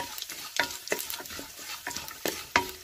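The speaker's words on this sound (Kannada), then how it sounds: "ನಾನು ಕರಿಬೇವು, ಒಂದು ಮೆಣಸಿನ್ಕಾಯಿ ಮತ್ತು ಉದ್ದಿನಬೇಳೆ ಇದಿಷ್ಟೆಲ್ಲ ಹಾಕ್ತಾ ಇದ್ದೀನಿ" A tempering of curry leaves, one green chilli and urad dal fries in oil over a low flame, with a spoon stirring in short scraping strokes over a soft sizzle.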